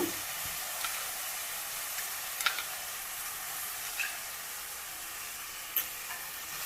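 Yogurt hits hot oil in a pan for Karnataka-style nati kushka and sizzles with a bright, continuous hiss, broken by a few light stirring clicks.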